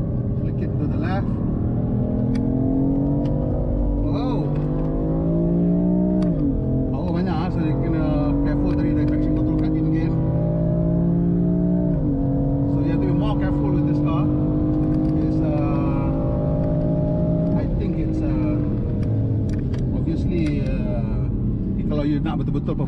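BMW M4 driven hard on a race track, a loud continuous engine roar with rising revs and sharp drops at several gear shifts, close and dominant while people talk over it.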